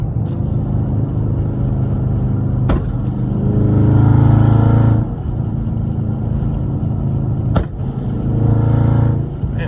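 Loud car on a highway revving hard in two bursts, each ending in a sharp crack as it shoots exhaust flames, over a steady rumbling drone.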